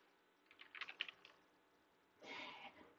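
Quick soft keystrokes on a computer keyboard tap out a short phrase, a faint cluster of clicks followed by a brief pause and a louder swipe-like burst.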